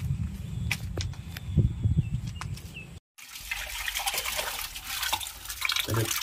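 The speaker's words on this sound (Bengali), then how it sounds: "টক পালকগুলো ধোয়া হচ্ছে।" Sorrel leaves being washed by hand in water, with soft splashing and trickling, faint and intermittent at first, then a louder steady wash of running water in the second half.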